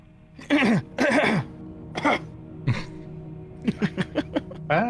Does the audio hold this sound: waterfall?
no